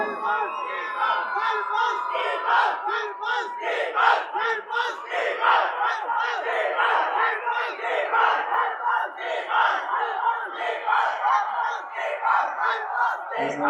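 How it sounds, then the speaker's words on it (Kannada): A dense crowd at a public event in Mysuru cheers, shouts and claps for an arriving guest, a loud continuous roar of many voices that holds steady for the whole stretch. "ಜೋರದ ಚಪ್ಪಾಳೆ"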